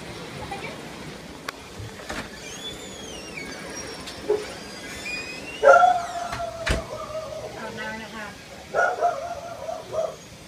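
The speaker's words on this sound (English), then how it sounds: "I think that's Sydney barking" A dog barks and whines a few times at a distance, mixed with scattered household noises and people talking.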